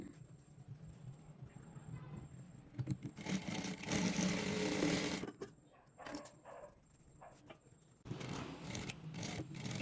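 A sewing machine stitches elastic into a frock sleeve in two loud, close bursts of rapid whirring, separated by quieter handling noise and pauses.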